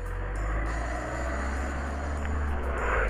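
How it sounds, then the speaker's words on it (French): A car engine rumbles steadily in the Talking Angela video game, a low continuous drone that holds level throughout with no clear pass-by and no speech. "C'est quoi ce bruit de voiture?"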